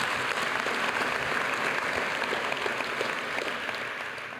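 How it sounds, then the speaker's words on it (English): Audience applause for a day of conference speakers, steady continuous clapping at moderate level that fades slightly toward the end with no talk over it. "we should give a round of applause for all the amazing speakers we had"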